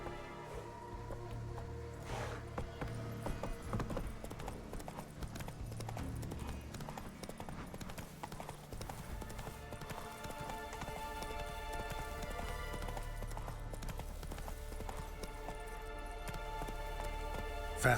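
Horse hooves clip-clop steadily at a gallop in The Witcher 3: Wild Hunt, a continuous rhythmic beat layered over game music and ambience for the whole stretch.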